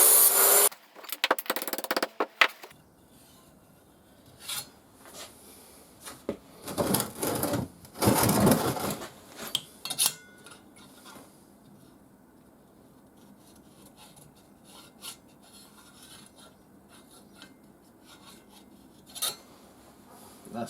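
Burrs filed off steel on a home-built Lotus Seven sports car: short bursts of dry, broadband rasping strokes with quiet pauses and scattered clicks between them.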